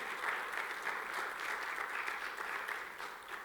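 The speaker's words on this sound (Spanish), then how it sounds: "Alguien puede aplaudir al Señor." A church congregation applauds during a sermon, a steady dense clapping that fills the space evenly from start to finish at moderate loudness, with no voices standing out.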